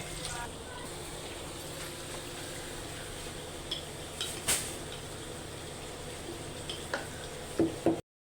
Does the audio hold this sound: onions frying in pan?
yes